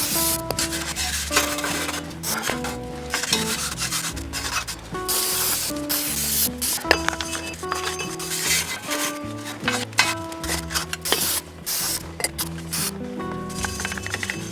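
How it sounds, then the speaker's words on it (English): Steady back-and-forth scraping of a wire brush scrubbing off-road mud and dirt from the brake area of a Jeep Wrangler JL, in rapid rhythmic strokes, close and fairly loud. "a wire brush will do"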